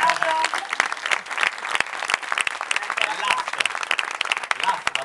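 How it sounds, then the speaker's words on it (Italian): An audience applauds at the Roma Fiction Fest 2010 presentation, with steady, dense clapping throughout and voices talking over it. "Facciamo anche lei un applauso."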